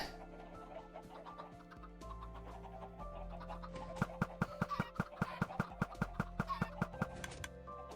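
Chickens cluck in a video-game chicken farm, soft clucks over steady game music and a run of regular ticking clicks, with no talk.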